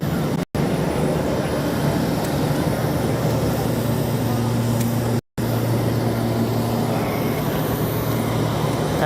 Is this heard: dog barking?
no